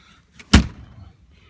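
A single sharp, loud slam of a VAZ 2107 car door being shut, close by, with a brief rattle afterward and no talking.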